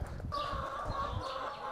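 Chickens call faintly from a distance on a 70-acre regenerative farm, with a thin, drawn-out call over low, rustling outdoor background.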